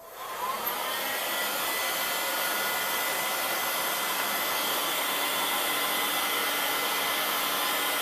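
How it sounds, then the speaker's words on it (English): A 2-kilowatt heat gun blows continuously while preheating a copper vise jaw block, a steady loud airy roar with a whining fan tone that starts up at the beginning and holds unchanged. "I'm gonna preheat it with a heat gun. It's 2 kilowatts."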